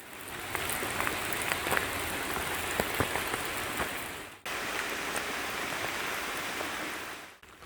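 Rain falls steadily on a forested hiking trail in a metasequoia recreation forest, a continuous hiss with scattered sharper drop taps and a brief dip partway through; no one speaks.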